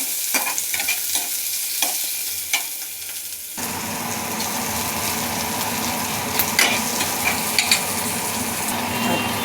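Onion and tomato sizzle in a pan while a spoon scrapes and taps in sharp irregular strokes, the frying growing into a loud continuous hiss partway through as more goes in.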